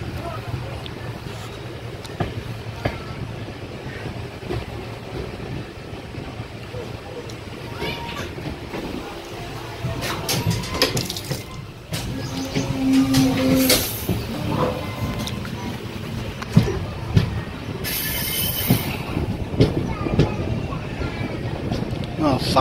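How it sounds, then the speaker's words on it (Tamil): Cholan Express passenger train pulling out of Mayiladuthurai toward the outer signal on a hot day, a steady rumble of running coaches with wind buffeting the microphone and someone talking over it. "இப்போ வண்டி மயிலாடுதுறைலேருந்து அவுட்டர் நோக்கி போயிட்டுருக்கு."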